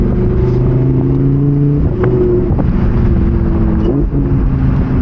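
A Lamborghini Huracan Evo Spyder's V10 engine roars loud and close on a canyon road, holding a steady drone that swells and dips with brief rev changes, no voices over it.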